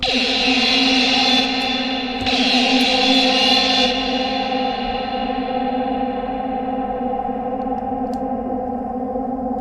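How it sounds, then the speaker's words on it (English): A sustained chord from the Spire synth by Reveal Sound rings out and slowly fades into a long, smooth reverb tail, the sound thinning over several seconds with no voices. "Listening to that tail gives you an indication of the quality of this reverb."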